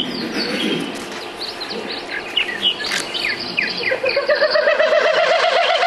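A Wilson's snipe winnows in flight, giving a pulsing, wavering hoot that swells through the later seconds, set against a bed of other bird calls and insect or cricket chirring.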